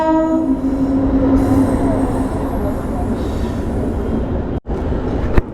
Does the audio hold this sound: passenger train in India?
yes